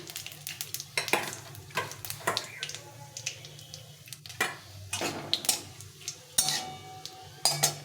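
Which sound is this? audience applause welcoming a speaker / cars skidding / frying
frying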